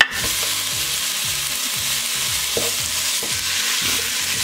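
Ground beef dropped into a pan of browning garlic and onion, sizzling steadily while a utensil scrapes and stirs in a regular, repeated rhythm close by.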